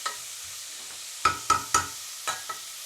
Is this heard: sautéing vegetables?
yes